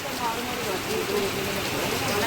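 Heavy monsoon rain pours steadily in Siddhpur, a dense, even hiss of drops hitting surfaces at close range with no pauses, voices faintly mixed beneath the downpour.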